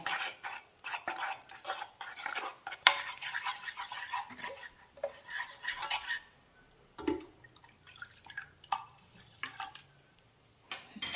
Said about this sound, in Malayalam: ആദ്യം ഇതൊന്ന് കലക്കി എടുക്കട്ടെ.